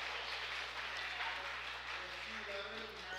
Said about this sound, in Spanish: Y otro aplauso para Mercados de la Prosperidad.